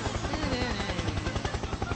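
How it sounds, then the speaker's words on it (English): Helicopter blades thump in a fast, steady chop with a dense rotor roar, loud and close throughout. "Helicopter, helicopter."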